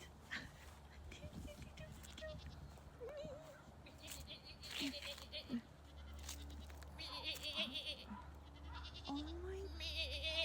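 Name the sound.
goat bleating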